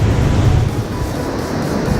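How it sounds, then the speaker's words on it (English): Waterfall on Don Khone Island in Laos, a continuous, loud broadband rush of falling water close by, steady and unbroken for two seconds with no talking. "We found the waterfall and we found this river to get into"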